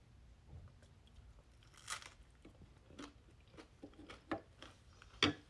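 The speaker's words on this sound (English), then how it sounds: "It shouldn't be crunching like that." Overcooked food crunches through a series of irregular close bites and chews, faint overall, with sharper crunchy bursts near the end.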